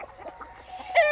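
Soft, brief clucks from an Aseel chicken close by on a free-range poultry farm, with a sharper squawk at the end.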